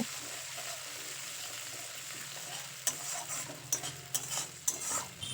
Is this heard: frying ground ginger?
yes